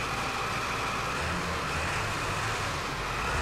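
Ford Excursion with a 7.3 Powerstroke diesel V8 running close by, a dense, steady broadband rumble and hiss, heavy and even like a big truck engine, with no talk over it.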